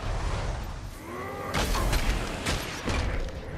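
Lightning bolt attack in Guild Wars 2: a rising whoosh, then a loud crackling electric burst, with further sharp crackles and impacts following close together.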